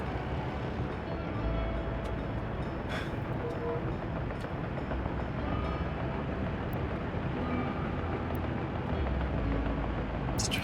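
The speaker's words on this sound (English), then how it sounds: "And the trains were headed up against each other." Trains rumble continuously in the rail-building video game Workers & Resources, a steady low rolling drone of railcars with no talk over it.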